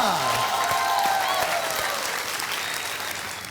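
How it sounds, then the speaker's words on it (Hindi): Studio audience applause on the set of the Dus Ka Dum game show, a loud, dense, steady burst of many hands clapping that gradually tapers off. "तालियां"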